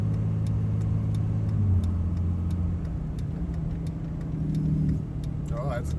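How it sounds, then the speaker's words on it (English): A truck on the road uses its Jake brake for engine braking, producing a loud, low, throbbing engine drone nearby that shifts pitch partway through, with faint regular ticking over it. "Oh, that's Jake brake."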